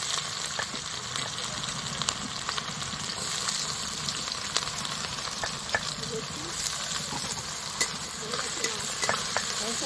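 Chopped onions frying in hot oil in a pan with dried chillies, whole spices, bay leaves and cumin, giving a constant close sizzle with occasional stirring clicks and scrapes and a faint background hum.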